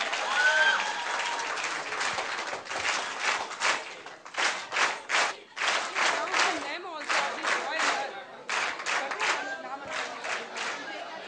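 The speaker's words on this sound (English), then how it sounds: "A big round of applause for the winners, please." A crowd applauds the winners at a college management fest, with loud, sustained clapping and cheering voices rising in waves, briefly dipping and then surging again throughout.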